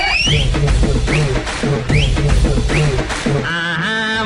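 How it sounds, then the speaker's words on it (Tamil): An audience at a kids' Indian cinema dance show whistles loudly over music, with sharp rising whistles repeating in short bursts across the beat. "உலக நாயகன் கமலுக்கு பெரிய விசில் அடிங்க."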